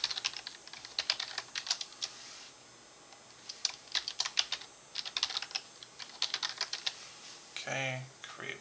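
Rapid clacking keystrokes on a computer keyboard as a wallet password is entered, coming in quick bursts with short pauses between, close and fairly quiet, ending with a louder key press.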